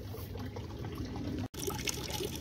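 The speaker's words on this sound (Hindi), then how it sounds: "तो अभी इसको जो है ना तीन पानी से निकालूंगा, फिर नमक से धो के" Bird seed grain is washed in water, with close pouring, trickling and sloshing, broken by a brief silent cut midway before the swishing resumes.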